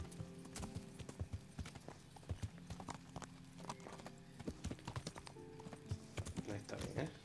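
Horse hooves clip-clop in the medieval video game Kingdom Come Deliverance, a steady run of sharp, close hoofbeats over a faint background hum, with no talking.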